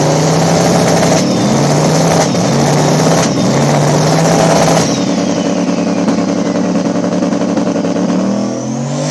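Outlaw small tire race cars battle on the track at Mooresville, their engines roaring loudly and continuously with rising and falling revs as gears shift, and one car sweeps past partway through.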